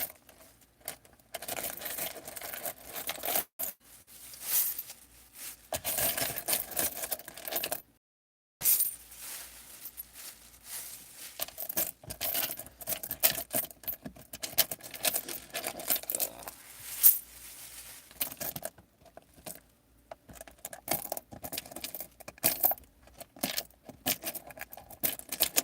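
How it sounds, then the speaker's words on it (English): Loose coins are scooped up and dropped while a truck is cleared out, with close, irregular metallic clinks and jingles in bursts and one short pause. "First things first, I'm gonna get all these coins."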